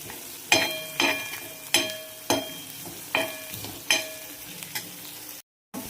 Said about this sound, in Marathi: ह्या कांद्यासोबतच मी मासे सुकट पण परतून घेणार आहे